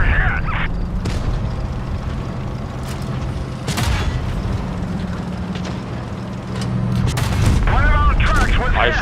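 Tank cannon shots from a WZ-121 in a tank battle video game, with several loud booming blasts and sharp bangs over continuous engine rumble and background battle noise.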